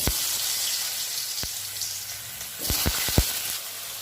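Potatoes dropped into hot oil tempered with bay leaf, dried red chilli and five-spice, giving a steady close sizzle with a few sharp clacks and splashes near the end.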